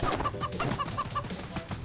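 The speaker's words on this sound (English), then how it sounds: "Oh, chicken!" A chicken in the co-op game Moving Out clucks in a quick, regular series of about seven short clucks over a busy game soundtrack.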